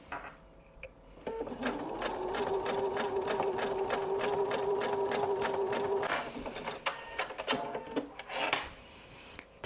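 A sewing machine stitches fabric in one sustained run with a fast, regular needle clatter and motor hum, bracketed by separate clicks and handling taps before and after.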